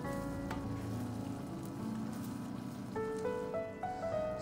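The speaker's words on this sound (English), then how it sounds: "And give it a stir." Chicken dal with fresh coriander stirred in a pot, a steady bubbling sizzle throughout with soft scraping of the spoon and a few faint tonal clinks near the end, no talking.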